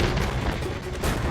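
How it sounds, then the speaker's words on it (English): Missiles firing and bursting in the James Bond Nightfire video game: a dense, continuous roar of heavy blasts and rumbling booms, loud and close, with no pauses across the stretch. "He's firing missiles!"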